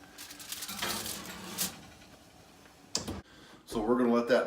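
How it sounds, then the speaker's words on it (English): A covered baking dish of round steak is set onto the middle rack of an oven preheated to 325 Fahrenheit, giving a couple of short clattering knocks and a rack slide before someone starts speaking. "I'm going to pop this in here on the middle oven rack."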